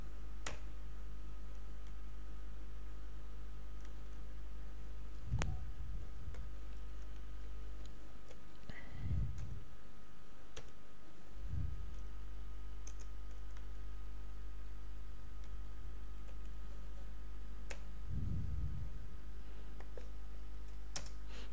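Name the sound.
typing Java code on a computer keyboard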